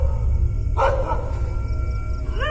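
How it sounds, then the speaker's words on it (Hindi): Cartoon dogs bark from inside a building behind a door, a couple of short yapping bursts over a steady low background hum. "ये दोनों ऊपर चढ़े ही थे तभी अंदर से कुत्ते की भौंकने की आवाज आने लगती है।"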